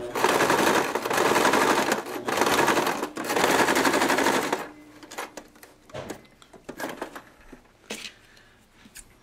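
A sewing machine back-stitches the foot of a Waldorf doll in loud rapid bursts of mechanical clatter with short pauses, then stops, leaving faint handling clicks and rustles.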